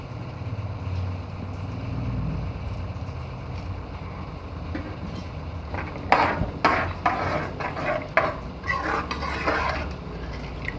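Rajma masala gravy with coriander and curry leaves simmering in a pot, a soft, steady bubbling that later gives way to several clattering scrapes of stirring nearby.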